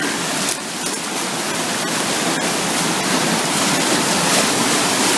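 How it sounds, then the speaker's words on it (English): Water rushes down an old mill chute in a loud, continuous roar like a small waterfall, close and unbroken for the whole stretch. "Yeah, that's a chute. That just shoots water."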